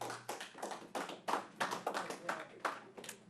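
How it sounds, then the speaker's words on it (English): Scattered audience clapping at a city commission meeting in Royal Oak, a series of sharp, uneven claps close by, spaced roughly every third of a second over a low hum. "Just want to remind everyone about clapping."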